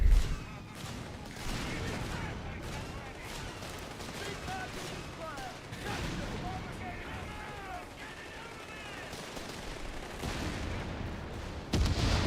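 Artillery and small-arms fire in the video game Company of Heroes 3, a busy battlefield of booms and gunshot bursts, with a voice talking over the fighting.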